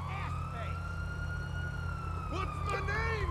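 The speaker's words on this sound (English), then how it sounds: "I don't like the sound of those sirens." Police car sirens in the video game GTA 5 wail in a steady, rising-and-falling tone at moderate distance, over a low rumble of engine and traffic.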